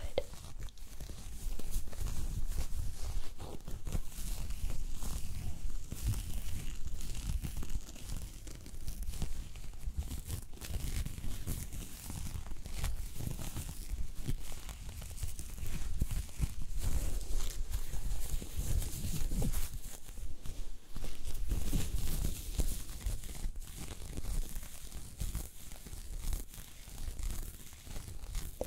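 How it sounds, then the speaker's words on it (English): Soft cloth rubbed and handled close by, a continuous brushing, scratchy texture with uneven swells and no voices. "It's a microfiber cloth."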